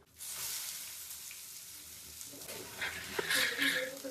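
Chopped onion frying in oil for a soppina sambar, giving a steady broadband sizzle up close throughout, with stirring clatter and brighter spitting toward the end.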